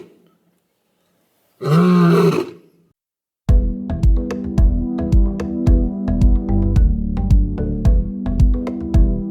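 A lion roars once on safari, a single deep, loud roar lasting about a second out of a quiet moment, followed after a short pause by rhythmic music.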